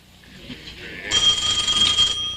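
A telephone in a home rings with a bright electronic trilling tone, starting faintly and then jumping to a loud, steady ring that stops abruptly, with no one talking over it.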